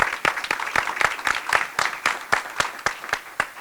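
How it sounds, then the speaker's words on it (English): Audience applause following a tribute at a Houston civic event, a steady wash of clapping with sharp, distinct claps standing out at a near, even rhythm, moderately loud throughout the short stretch. "A round of applause"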